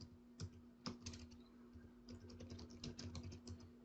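Quiet typing on a computer keyboard while working on an Excel chart, with a few separate key presses followed by a faster run of clicking keystrokes, all soft and close against a faint steady hum.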